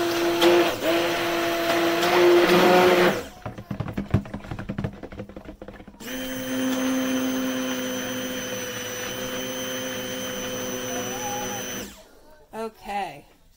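A stick blender whirs in steady bursts while kaolin clay is mixed into soap batter, loud motor hum for a few seconds, a pause with clinks and handling, then a longer second run stopping abruptly.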